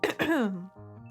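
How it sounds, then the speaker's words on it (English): A short voiced throat clearing from a character in the visual novel game Criminally Yours: one quick rough ahem that lasts about a second, close and alone. "I clear my throat."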